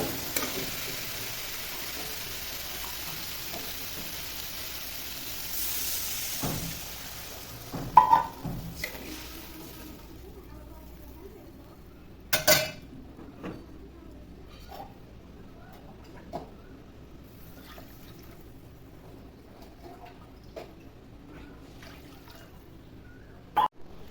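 Water poured into spice paste frying in a pan for a thin prawn curry with potato and pointed gourd gives a faint, hissing sizzle that fades, followed by quiet simmering and occasional clinks.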